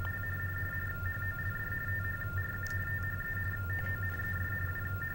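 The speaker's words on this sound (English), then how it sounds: "Sounds like TTY tones." Steady TTY tones on a telephone line during a call transfer, two level pitched tones running continuously for about five seconds over a low hum, with no voices.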